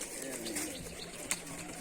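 A flock of tumbling pigeons coos on a Rajshahi rooftop, a brief wing flap breaking through the soft steady calls.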